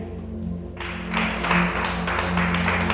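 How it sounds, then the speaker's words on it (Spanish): A church congregation applauds during a Spanish-language sermon: the room starts quiet with a low hum, then a wash of many hands breaks out and holds steady, moderately loud and reverberant. "Dale otro aplauso al Rey."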